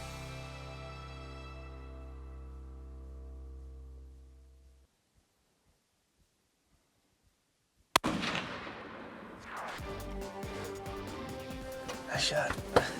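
A rifle shot fired during a big-game hunt, with one sharp, loud crack after a sustained musical tone fades into near silence, followed by a noisy outdoor rumble and rustling.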